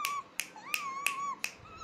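A small child claps at home with dad, about five crisp, light claps at a steady, unhurried pace. A sustained high, tonal voice-like sound runs beneath the claps.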